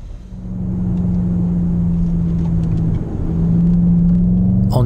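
A Jaguar XFR at speed on the Goodwood track, with a loud, close, steady engine drone and road rumble that swells slightly as it accelerates, and a brief sharp noise at the end.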